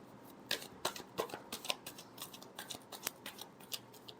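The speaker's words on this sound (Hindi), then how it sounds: "Last shuffle." Tarot cards being shuffled by hand, a quick run of crisp riffling snaps and flutters, fairly faint and close, with no voice over them.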